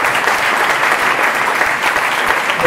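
Dense, loud applause from an audience at a Popolo della Famiglia political meeting fills the whole stretch, steady and close with no break.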